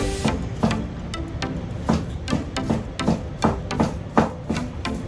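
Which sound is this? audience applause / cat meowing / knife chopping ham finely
knife chopping ham finely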